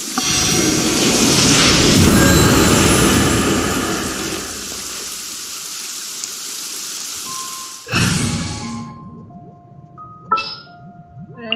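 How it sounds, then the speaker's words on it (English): Rain falls in the video game Genshin Impact, a loud, dense hiss that fades after several seconds. Sharp game effects and brief tonal chimes follow near the end, and no one speaks. "Oh, I don't like the rain."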